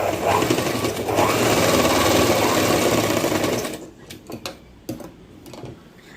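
A sewing machine stitches tucks into the front of a baby gown, giving a steady, close mechanical whir for several seconds. It then stops, followed by a few scattered clicks and handling knocks.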